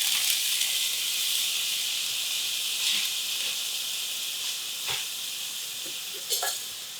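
A batch of vegetables for a hot and spicy curry sizzles in hot oil, a steady bright hiss with occasional sharper crackles and pops, close and continuous with no talking.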